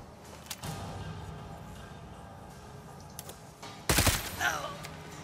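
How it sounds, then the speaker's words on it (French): Pistol shots ring out in the Necromunda video game, a sharp burst of gunfire over a steady game background with a few ticking sounds. "on va lui mettre des tirs de pistolet."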